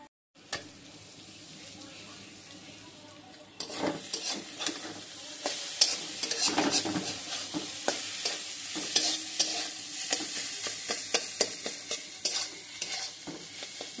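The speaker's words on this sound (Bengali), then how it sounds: "ভালো করে লাল লাল করে ভেজে নেব।" Food frying in a pan in a home kitchen, quiet at first, then a steady sizzle with repeated scraping and clattering as it is stirred, close up.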